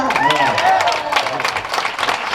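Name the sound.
audience applauding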